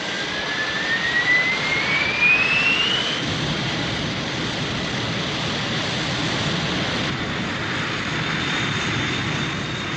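Jet engines on an aircraft roar loudly and continuously with a rising whine, a strong, steady blast heard close up without voices.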